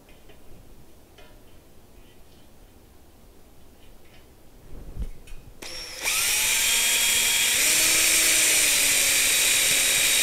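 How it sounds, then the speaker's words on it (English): A power drill spins up loud and close after a few quiet knocks, holding a steady high whine as it bites into a metal frame. "now I can just drill some holes there"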